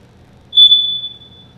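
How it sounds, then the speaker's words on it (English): A single high, thin smoke detector beep rings out clearly in quiet, old Ferguson Hall, sustained briefly and then fading against a low background hum. "That beep that we're hearing, I think, is a smoke detector."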